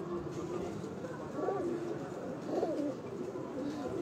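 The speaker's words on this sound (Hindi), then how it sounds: "अब आपको कबूतर माशाल्लाह दिखा रहे हैं" Pigeons on a rooftop coo in repeated low, rolling phrases over a steady background hum, the coos rising and falling at a moderate distance.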